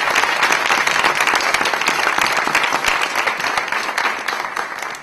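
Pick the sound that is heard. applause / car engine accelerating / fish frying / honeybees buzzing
applause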